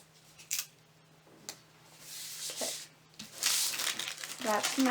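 Masking tape crinkles and tears in bursts of crackly peeling and ripping as it is applied around the edges of a Nightmare Before Christmas diamond painting kit, close and fairly quiet, with a few soft rustles between.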